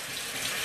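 Warm water runs steadily from a tap into a sink, a close, even rushing splash with no pauses.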